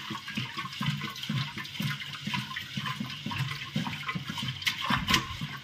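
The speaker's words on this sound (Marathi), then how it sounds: "आता आपण आहे ना थोडंसं हे पाणी फिरवून घेऊ." Water swirled inside an old clay pot after dissolving salt, a soft sloshing and gurgling churn that rises and falls rhythmically, fairly quiet and close, without voices.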